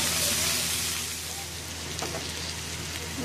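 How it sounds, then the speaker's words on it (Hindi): Capsicum, tomato and onion sauté in a pan for a Kadai Paneer dish, giving a steady broadband sizzle like light rain with a faint low hum underneath throughout. "कैप्सिकम आधा डालेंगे, और एक टमाटर और ये प्याज, इसको भी फ्राई करके हम निकाल लेंगे सॉटे करके"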